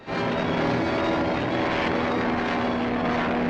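Steady, loud propeller airplane engine drone used as a sound effect in an old radio drama, a continuous unbroken hum with no voices over it.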